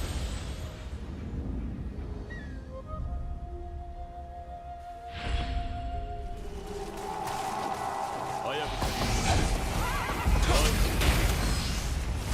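A horse neighs and whinnies in the video game Nioh, with game sound effects and low rumbling beneath and a brief impact partway through.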